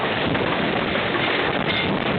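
Strong, steady wind during a thunderstorm in Iowa roars and buffets the microphone continuously, a dense rushing noise with no voices.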